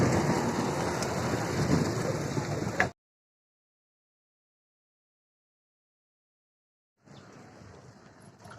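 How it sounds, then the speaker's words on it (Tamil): Steady rain hisses down onto a road on a rainy cycling outing at a sunset viewpoint, loud and close, cutting out to silence midway before resuming; no one speaks. "மழை வேறு தூரிட்டு இருக்கு நம்ம நேரம்."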